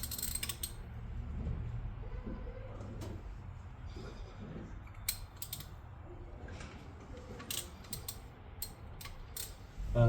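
Mechanical creaks and ratcheting clicks come from loosening a stuck part on a 1968 Buick Wildcat, a winter project car, with sharp metallic ticks scattered through a steady low rumble of close work and no talking.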